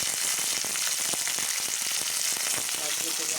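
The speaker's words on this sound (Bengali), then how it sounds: "এবার আমি ফোড়ন দিয়ে দেব" Green chili and panch phoron tempering in hot oil for a Bengali bathua greens dish, giving a steady, dense, close sizzle that crackles evenly throughout with no voices.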